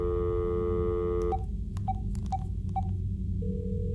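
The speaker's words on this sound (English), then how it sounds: "I see no hand dialing the number." A telephone number is dialed in the video game Dark Fracture, with a steady dial tone cut off by a short series of distinct beeping keypad tones, then a faint lingering tone.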